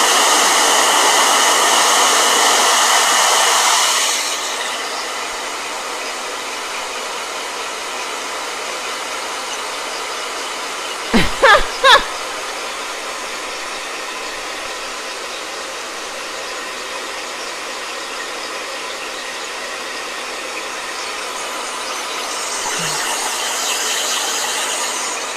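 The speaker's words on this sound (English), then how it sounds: "Blow dryer." A blow dryer runs loudly and steadily for a few seconds, then cuts off, leaving a quiet room with a short mechanical clicking partway through before the dryer's airflow rises faintly again near the end.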